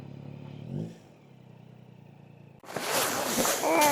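Motorcycle engine idling low and steady near a reservoir, then a sudden loud burst of broadband noise that stays rough and strong to the end.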